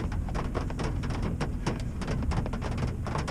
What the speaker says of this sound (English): So, rain is not letting up. I mean, it's